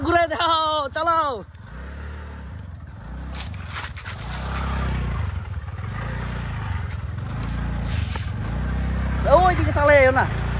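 A second-hand motorcycle engine idles and revs with a steady low throb while the rear wheel spins, with a voice briefly at the start and end.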